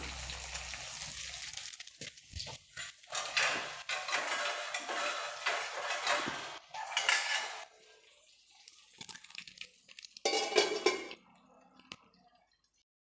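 A cooking pot lid is lifted off a simmering pan of brinjal rasavangi, giving metallic clanks and clatters with wet stirring and bubbling sounds in uneven bursts, then trailing off into near quiet.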